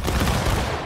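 An infantry company firing a volley in a Bloody Lane battle game, a loud, dense crash of many simultaneous shots that fills the brief moment without talk.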